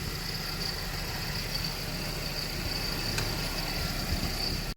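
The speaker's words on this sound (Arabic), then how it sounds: "السيارة شغالة جاهزة" A car engine runs at a steady idle, a low continuous rumble with a constant hiss on top, close by and unbroken, with no talking.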